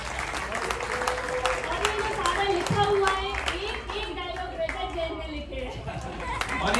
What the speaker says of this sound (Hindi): एक बार जोरदार तालियां पूरी टीम के लिए